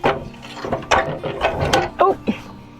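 An old metal wringer washer is rocked back and forth across the ground, producing a series of irregular scraping, creaking and clunking bursts, fairly close and loud.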